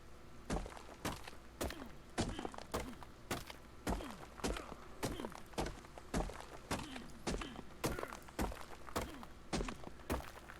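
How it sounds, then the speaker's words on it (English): Repeated strikes on a rock in ARK Survival Evolved, a steady series of about a dozen sharp, hollow thunks at roughly one-second intervals, fairly faint and alone. "a nice rock that we're beating on right now"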